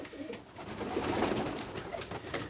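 Racing pigeons in a flock gathered at a bath, cooing together in a steady, close murmur of overlapping low calls with light fluttering and background rustle throughout.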